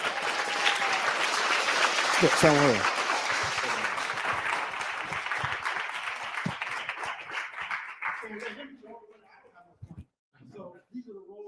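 A crowd applauds after a martial arts demonstration of ukemi falls and rolls at a birthday tribute event, broad clapping sustained for several seconds, then fading as a few voices talk and a brief whistle-like tone cuts through.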